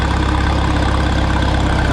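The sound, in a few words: Minneapolis-Moline 4 Star tractor engine idling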